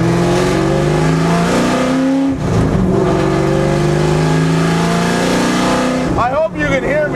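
A 1989 Mustang American Iron race car engine roars loudly and steadily throughout, with revving swells and a brief dip midway, while a person talks over it.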